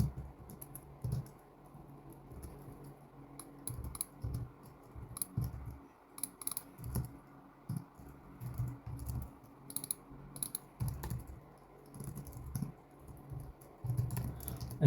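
Code being typed on a computer keyboard for a robotics communication project, irregular bursts of close, crisp keystrokes with short pauses, continuing throughout.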